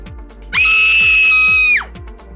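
A woman lets out a single loud, high-pitched scream lasting over a second, sharply rising and then dropping off, over a soft repeating rhythmic beat.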